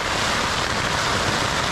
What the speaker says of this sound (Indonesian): Jujur hujannya gede banget sih.